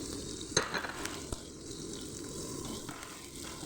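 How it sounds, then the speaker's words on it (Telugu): Thinly sliced onion and curry leaves frying in a pan, a soft continuous sizzle heard up close, with a few sharp clicks and clatters of stirring early on and no talking over it. "ఒక ఉల్లిపాయ అయితే సన్నగా కట్ చేసుకొని వేసుకొని ఫ్రై చేసుకోవాలి ఇందులోనే ఒక రుబ్బ కరివేపాకు కూడా వేసుకున్నాను"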